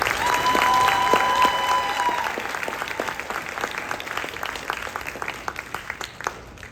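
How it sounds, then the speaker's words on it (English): Audience applause after a jazz band performance at a school spring concert, a dense burst of clapping that thins out into scattered individual claps as it fades. "So one more round of applause for our guys."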